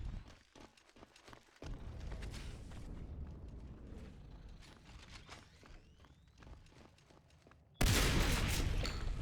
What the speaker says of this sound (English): No, he opens with his pistol.